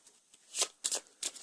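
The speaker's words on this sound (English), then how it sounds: "Now I shuffle my deck again" Three quick riffling bursts of an Arkham Horror card game deck being shuffled, close and crisp, with brief pauses between them.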